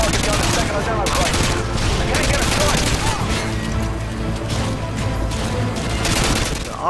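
A light machine gun fires in the video game Modern Warfare 2 in loud, dense bursts of rapid shots that run close together, with booms and battle noise mixed in.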